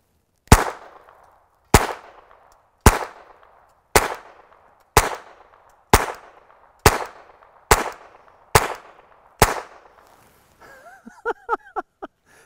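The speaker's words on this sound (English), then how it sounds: "That's impressive for being such a short can on a pistol." Ten evenly spaced pistol shots through a short suppressor at a shooting range, each a sharp close pop with a brief decaying tail, followed by a short burst of speech.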